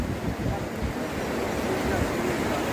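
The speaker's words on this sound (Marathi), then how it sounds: "और ये है यमुना नदी," The Yamuna river flows near its source at Yamunotri in the Himalayas, a steady broadband rush of water, mixed with some wind noise.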